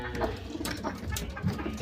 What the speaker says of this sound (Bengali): এই ঘরের মধ্যে কিছু কবুতর এবং কিছু দেশি মুরগি পালা হয়।